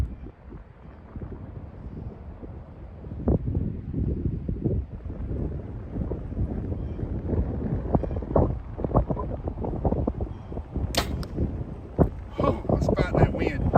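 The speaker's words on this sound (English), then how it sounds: "That wind is just brutal" Strong wind at an outdoor archery range, buffeting the microphone in low rumbling gusts that grow louder over time, with a voice speaking over it.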